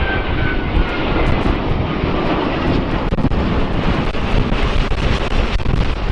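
A loud, steady airplane engine roar from a flying toy cargo plane, with wind buffeting the microphone, continuous throughout without pause.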